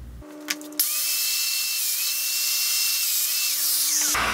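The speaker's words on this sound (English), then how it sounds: "So that was our 28 millimeter depth mortise on this one." A Festool Domino 500 joiner plunges a 28 mm deep mortise into a wood panel: the motor spins up with a sharp start, holds a loud high whine for about three seconds, then cuts off.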